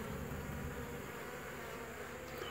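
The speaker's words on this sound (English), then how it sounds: "you'll see bees crawling all over" Honeybees crawling over a beekeeper's hand at a hive taking a new mated queen, a steady close buzzing drone that holds evenly throughout, with no voices.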